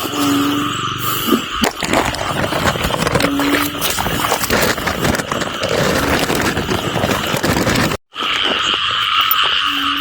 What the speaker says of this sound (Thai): กบเข้าคู่ครับ